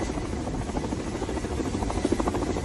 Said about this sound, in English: You can see the pilot struggling with hovering the helicopter over the moving ship.